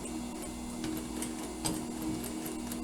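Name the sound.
sewing machine stitching a reversible surgical cap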